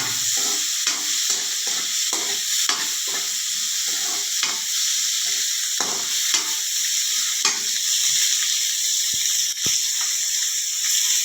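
Onions tipped into a pan where ivy gourd is already frying, giving a steady close sizzle with rhythmic stirring and scraping strokes throughout.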